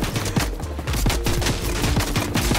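Dense, rapid gunfire from the video game Fortnite, a continuous burst of overlapping shots that rattle steadily for a few seconds without any talking.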